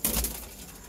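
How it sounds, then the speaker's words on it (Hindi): Madrasi pigeons being kept for sale give a brief, close burst of soft cooing and fluttering, with faint noise underneath as it dies away. "जितने भी कबूतर आप देख रहे हैं सब एक से बढ़कर एक नया कबूतर है"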